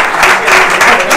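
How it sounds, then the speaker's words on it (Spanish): A crowd applauds loudly and continuously, dense clapping filling the whole moment. "Un aplauso para Pedro Duque"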